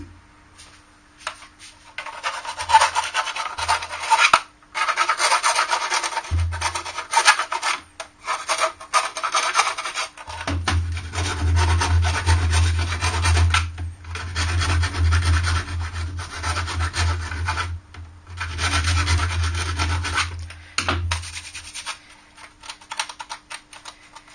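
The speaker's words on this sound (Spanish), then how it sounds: "ahora limpiaremos un poquito lo que son las rebabas, las pequeñas imperfecciones. Podemos utilizar una lima." A hand file rasps steadily along a plastic Master System console case to clear burrs, with long, close scraping strokes broken by brief pauses and a low motor-like hum underneath in places.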